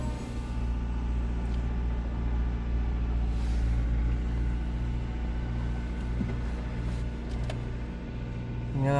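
A car engine idles after sitting unused for four days through a snowstorm and extreme cold, a steady low rumble with a constant hum running unbroken throughout, close and fairly loud.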